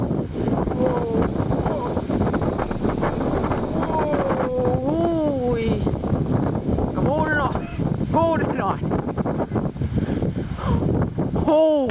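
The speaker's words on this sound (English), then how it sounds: "a worse wind gust have come in just before the rain arrives," A strong wind gust roars across the microphone during a windstorm before rain and small hail, a loud continuous rushing with buffeting under steady talking.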